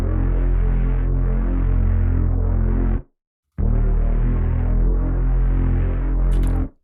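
A deep, sustained synth bass note made in the Vital synthesizer drones loudly, with legato glide and chorus, pausing briefly midway before resuming, thick and buzzy with a steady pulse.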